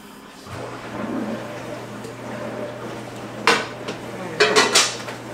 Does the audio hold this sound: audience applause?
no